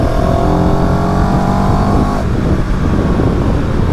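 A CFMoto CL-X 700 Sport café-racer motorcycle engine revs loudly in sport mode, a sustained close roar that rises in pitch and then settles as the rider opens it up.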